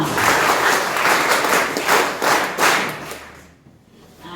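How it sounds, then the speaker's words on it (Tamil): A school audience claps for the teachers at a Bloomfield school event, loud and close with a rhythmic, pulsing quality, then the clapping fades away into near silence before a faint rise at the end. "ஸோ டீச்சர்ஸுக்கு ஒருக்கா கைதட்டுகள் கொடுத்துடலாமா"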